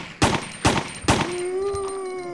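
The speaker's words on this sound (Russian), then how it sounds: "Пять выстрелов" Three quick gunshots crack out at zombies in Resident Evil 3, evenly spaced and loud, followed by a lingering high tone from the game.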